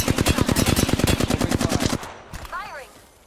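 Rapid automatic gunfire in the video game Apex Legends, a steady loud burst of evenly spaced shots for about two seconds that stops abruptly, followed by a brief whooshing effect.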